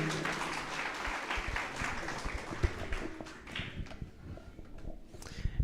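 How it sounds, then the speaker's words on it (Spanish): Congregation at a church wedding claps in moderate applause, a fairly faint, uneven patter of hands with a few louder taps, fading slightly toward the end. "Vamos a recibir con fuertes lluvias de aplauso."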